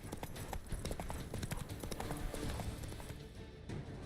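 The horse Roach trots in The Witcher 3, its hooves clip-clopping in a steady, continuous rhythm that stays fairly loud and close throughout.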